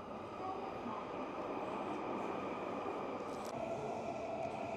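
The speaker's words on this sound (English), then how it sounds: "The metro." A Tokyo metro train arriving at a platform, a steady, loud broadband rumble and rush of the carriages running throughout, with faint brief squeaks near the end.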